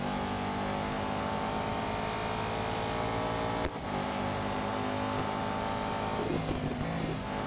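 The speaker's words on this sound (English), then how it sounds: "That's what an engine should sound like." A racing car engine in the video game Real Racing 3 drones steadily at high revs throughout, loud and dense, with one brief dip in the middle and slight shifts in pitch toward the end.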